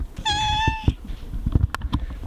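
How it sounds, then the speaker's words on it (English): The neighbour's cat, Stinky, lets out one clear, close meow, followed by shuffling and handling noises nearby. "She's the neighbour's cat."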